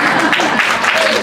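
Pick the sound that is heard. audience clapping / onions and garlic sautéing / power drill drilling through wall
audience clapping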